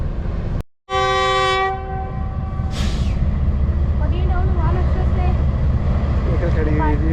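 Decorated Awan Express passenger train with upgraded rakes departing a railway station in Pakistan on its first day, a loud horn blast followed by continuous rumbling wheels and rail noise, with someone talking over it.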